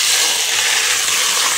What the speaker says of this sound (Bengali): কড়াইতে তেল দিয়ে দিয়েছি